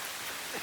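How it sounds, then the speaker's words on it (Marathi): Steady rain falls during a monsoon trek to Mrugagad fort, a soft, even hiss with faint droplet texture and no voices. "मस्त असं पाऊस चालू आहे बघू शकता."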